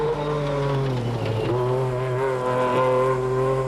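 A rally car at the 1992 Lurgan Park Rally, its engine droning loudly and steadily, with the revs dipping and climbing again a couple of times as it drives close by.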